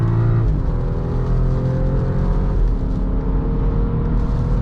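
A 2018 BMW X5 xDrive35i accelerates on a highway, its engine a loud, steady drone heard from inside the cabin with a rising pitch and a constant road rumble underneath, with no voices.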